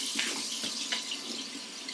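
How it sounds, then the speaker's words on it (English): Cold water runs steadily from a kitchen tap into a sink for rinsing, a close, continuous hissing splash with small splatter accents. "Okay, we're going to rinse with cold water,"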